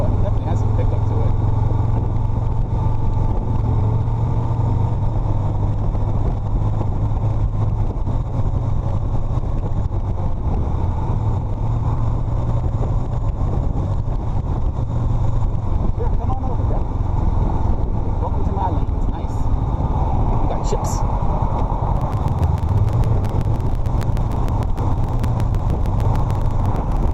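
A 2021 Honda Rebel 500 motorcycle engine rumbles steadily beneath strong wind noise while riding. Revs rise and fall with gear changes and downshifts, loud and close, with no talk.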